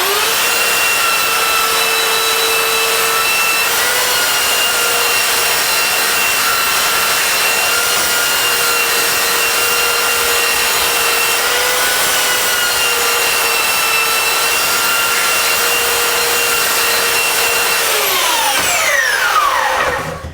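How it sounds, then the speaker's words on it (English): A power sander makes a rough pass over wood, a loud steady whine with a constant pitch that runs for about eighteen seconds before it winds down, no talk. "I'm just going to do a rough sand."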